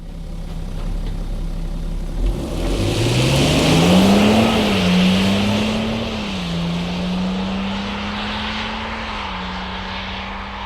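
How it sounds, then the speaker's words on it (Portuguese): A recorded BMW car engine plays alone, starting low and then rising into a steady, sustained drone that holds for several seconds before easing slightly, with no talk over it. "Marcel, joga o som da BMW aí."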